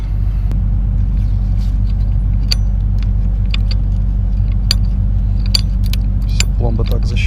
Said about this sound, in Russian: Все, пломба так защелкивается.